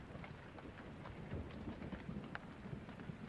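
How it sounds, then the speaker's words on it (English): Rain pours steadily with a low thunder rumble in a storm scene in the video game Pyre, a dense, even hiss that fills the background, with no voices. "I hope the rain settles down, because I don't want to fly in this storm."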